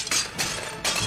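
Ceramic plates crash and smash in a cooking-competition kitchen, with three quick bursts of breaking in close succession, fairly faint.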